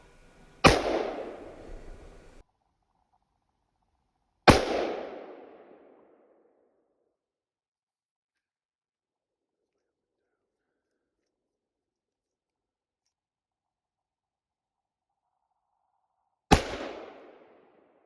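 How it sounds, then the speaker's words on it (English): Three single rifle shots from a Crusader Arms Crypto rifle, each a sharp loud crack with a short decaying echo, the first two about four seconds apart and the third after a long silent pause. "So a few rounds through the pipe."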